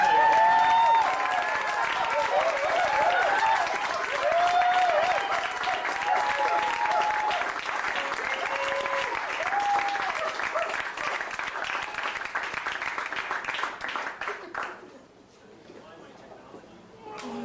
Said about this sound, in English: Let's have an opening round of applause